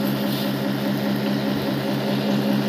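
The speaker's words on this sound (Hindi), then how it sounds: "ये मोटर भी चल रही है" The motor of a tractor washing rig runs outdoors, giving a steady, loud mechanical drone that stays constant throughout without speech.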